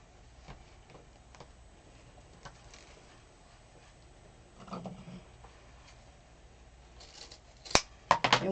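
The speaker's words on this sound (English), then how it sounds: "Last one, and we get to cut." Scissors snip through mesh ribbon while a breast cancer awareness ribbon swag is being made, a few sharp close cuts near the end after quieter handling sounds.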